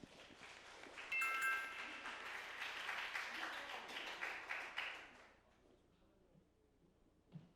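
An audience claps for a high school team at a mock-trial competition, the applause swelling fast into a dense, steady patter that fades out after about five seconds, leaving quiet room noise.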